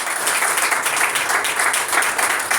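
A church congregation claps for Jesus in a thick, even burst of applause that stays loud and continuous, with no voices over it.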